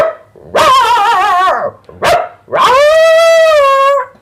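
A person's voice mimics a dog, loud and close: a long wavering howl, a short sharp yip, then another drawn-out howling cry, with no other talk.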